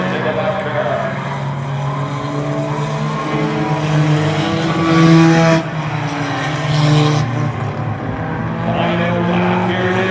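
Stock race cars roar around Oyster Bed Speedway, engines droning loud and continuous with pitch swells as cars pass, while an announcer talks over the racing throughout.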